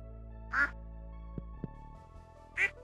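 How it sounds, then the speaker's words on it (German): Duck in the farming game Stardew Valley giving two crisp, clear quacks about two seconds apart over a soft steady game music bed, with a couple of faint clicks between. "Hier noch eine Ente."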